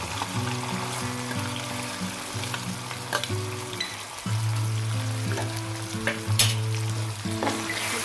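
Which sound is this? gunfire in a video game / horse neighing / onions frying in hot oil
onions frying in hot oil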